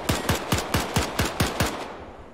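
Automatic gunfire in a D-Day airborne video game, a rapid, evenly spaced burst of about eight sharp shots at close range, ending in a short fading tail.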